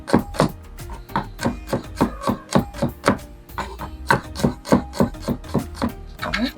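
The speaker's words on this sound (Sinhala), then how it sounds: "සුදු ලුණු මේ විදිහට අපි කපා ගන්න ඕනේ" A knife chops garlic on a cutting board for a Sri Lankan egg curry, making a quick, steady run of sharp, close taps with no talk.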